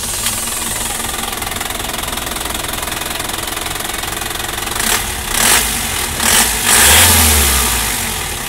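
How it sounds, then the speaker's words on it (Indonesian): An Isuzu Traga diesel pickup with a 4JA1L engine, manual transmission, idling steadily up close before several sharp revs rise and fall, ending in a longer sustained rev. "kita pengen coba dulu dengar kayak gimana sih raungan mesin Isuzu Panther yang lumayan legendaris itu"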